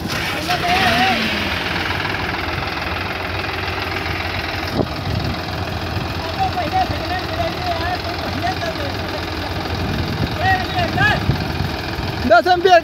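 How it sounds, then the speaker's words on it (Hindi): Two tractor engines, a Sonalika 35 RX and a Swaraj 735 FE, idle and rumble steadily side by side in a tug-of-war, a continuous mechanical drone with occasional knocks and clanks. "चालू हो गए दोनों ट्रैक्टर।"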